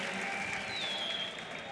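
Large arena crowd at the EU LCS Summer Finals esports event, Fnatic versus FC Schalke 04, cheering and applauding in a steady, dense roar that fills the whole moment without a break.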